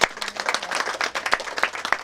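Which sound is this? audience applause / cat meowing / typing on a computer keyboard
audience applause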